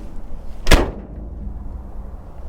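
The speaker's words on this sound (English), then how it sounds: "You hear that door?" A single sharp door slam on a stick-shift truck, close by, with a brief ringing echo fading into quiet background hum.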